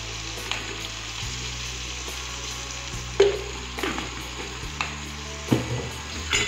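Turmeric and salt stirred into hot oil for a vegetable sabji sizzle steadily in the pan, with a spoon scraping and knocking against the metal at irregular intervals, close and clear, with no voices.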